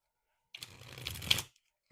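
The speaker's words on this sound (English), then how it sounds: "easily shuffle, even though that didn't look easy, but you can" A Trick or Treat tarot card deck is shuffled in one close, brisk riffle lasting about a second, preceded by silence.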